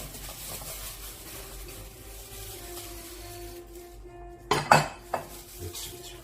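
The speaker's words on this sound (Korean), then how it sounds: "이렇게 예쁜 그릇에 담아내면 아주 먹음직스러운" Ceramic bowl and utensils clink a few times while seasoned shepherd's purse dressed in soybean paste is plated in a home kitchen; soft, close taps cluster near the end over a quiet room hum, with no talking.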